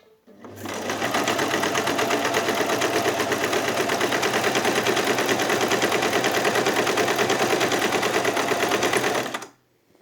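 A sewing machine sewing a buttonhole at a very short stitch length, running in one loud, steady, rapid mechanical chatter for about nine seconds before stopping.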